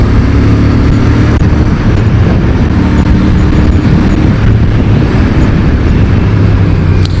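Royal Enfield Bear 650 motorcycle riding through heavy road traffic, giving a loud, constant engine and wind roar with a dense low rumble of surrounding vehicles.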